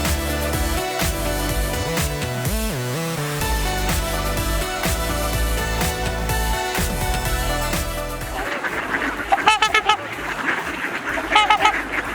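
Geese honk loudly and repeatedly nearby, a raucous chorus of overlapping calls that turns noisier and more scattered toward the end.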